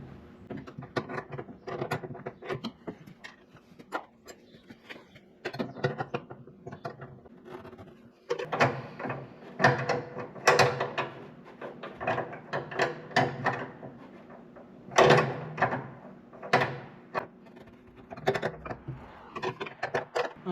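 Metal fitting being wrenched off the metal tank of a vintage snowmobile left sitting for 15 years, heard as repeated ratcheting clicks and scraping tool strokes in irregular bursts, close up, with no talking.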